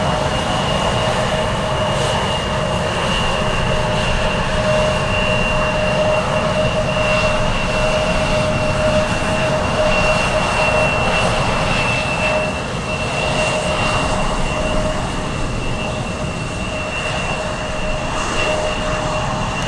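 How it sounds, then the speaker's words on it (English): A Boeing 747 jet on short final approach into Anchorage makes a steady, loud, unbroken roar with faint sustained whining tones that hold through the whole stretch, with no talk. "Big 747 on shore final."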